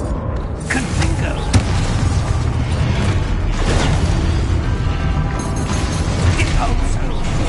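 Confringo fire spell blast in the Hogwarts Legacy video game, a dense booming burst of game effects with sharp pops and crackles over a continuous loud rumbling mix.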